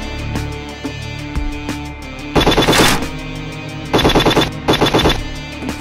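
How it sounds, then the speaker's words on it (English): Machine gun fire in the Nintendo Switch game The Spy Who Shot Me: loud, rapid rattling bursts, three distinct volleys with short gaps, over a steady background game soundtrack. "A machine gun!"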